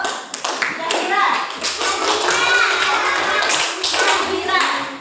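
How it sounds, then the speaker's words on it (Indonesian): Schoolchildren in a classroom clap their hands for a classmate named Zahira, a brisk flurry of applause lasting several seconds with children's voices chattering underneath. "tepuk tangan untuk Zahira"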